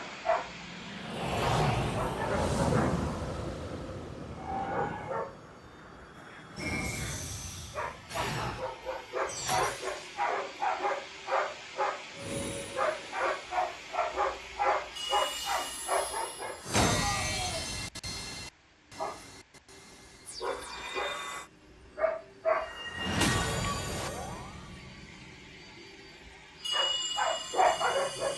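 Dogs bark repeatedly in rapid bursts and yips, some farther off, mixed with whimpers over a busy game soundtrack, with loud noise swells interrupting throughout.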